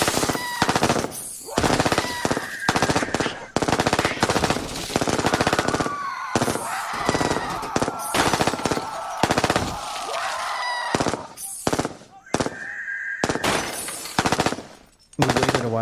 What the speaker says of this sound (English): We waited a while for the gunfire and the shrieks to go down